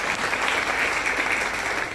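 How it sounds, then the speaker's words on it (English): Audience applause at an award function, a dense, steady burst of clapping filling the whole stretch at even loudness with no voices over it. "I think that deserves a lot of applause to each of you."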